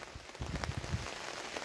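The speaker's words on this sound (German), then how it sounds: "Regen, nass, kühl." Autumn rain falls outdoors at a carp fishing spot, a steady soft hiss of drops pattering on surfaces, with some louder close patter in the middle and no talking.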